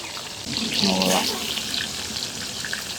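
Beef brain fries in hot oil with green chillies in an outdoor village kitchen, giving a steady, dense sizzle and bubbling that swells briefly and holds throughout.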